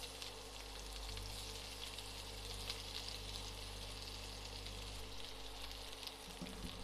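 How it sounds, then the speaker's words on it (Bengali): Chopped onion frying in a pan with cardamom, a steady close hiss and crackle of sizzling oil that continues evenly without pause. "পেঁয়াজটা আমি একটু ভালো করে ভেজে নেব যাতে কাঁচা গন্ধটা চলে যায়।"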